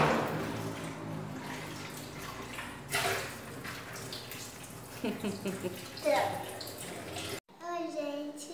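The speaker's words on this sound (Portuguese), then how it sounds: "Abre a água agora" A tap runs to rinse soap off dishes in a home kitchen, a steady rushing stream heard close, with a child and an adult talking over it before it cuts off abruptly near the end.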